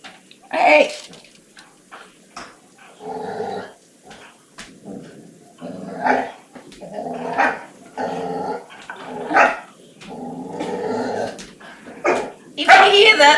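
Two dogs playing indoors, barking, growling and yapping in short bursts back and forth, close by, with a person talking in between.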